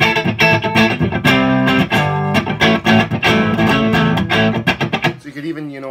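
A clean, punchy electric guitar with a neck-position humbucker played through a loud tube amp, strummed chords and single notes ringing out with no distortion, ending in a short decaying tail.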